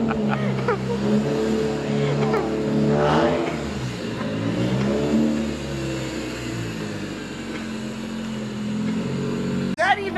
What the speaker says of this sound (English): Maybe just give her a rev.